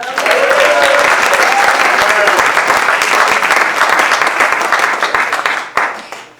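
A concert audience at a Martin Luther King tribute applauds a guitarist with loud, dense, sustained clapping that holds steady before tapering off at the very end.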